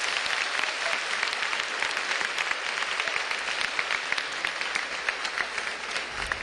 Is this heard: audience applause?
yes